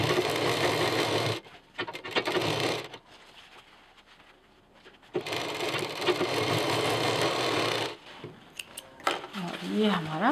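A sewing machine stitches a belt onto a handmade backpack in two loud, rapid bursts, with quieter handling sounds in between.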